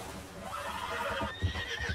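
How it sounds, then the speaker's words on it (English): A white horse in Red Dead Redemption 2 gives a whinnying neigh against a steady ambient game background, fairly faint, with hooves faintly clip-clopping. "This is white horse. I think it's a real horse."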